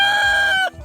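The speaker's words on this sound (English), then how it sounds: "there are far too many roosters in here" Roosters in a crowded backyard chicken flock, with a loud, sustained harmonic crowing-like call from a nearby bird that cuts off abruptly near the end, leaving low farmyard murmur.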